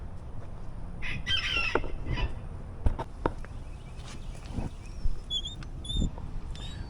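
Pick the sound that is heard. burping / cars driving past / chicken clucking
chicken clucking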